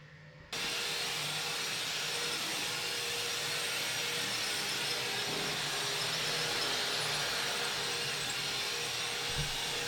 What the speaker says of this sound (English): there's a squeaky noise on my vacuum